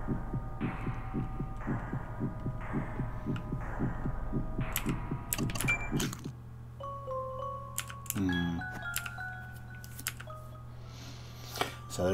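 Rhythmic heartbeat thumping from a panicked state in the Fleshport video game, steady pulses for several seconds before giving way to a low hum with scattered clicks and electronic tones.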